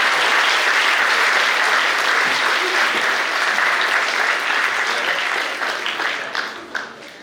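Sustained, dense applause from an audience at a university inaugural lecture ceremony, steady and loud throughout before thinning out into scattered claps near the end.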